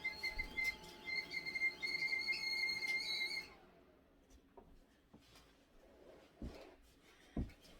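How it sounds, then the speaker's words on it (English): A steady high-pitched whistle with harmonic tones sounds for about three seconds, then cuts off, leaving faint clatter and a few knocks. "Hear that whistling? That means my water's done."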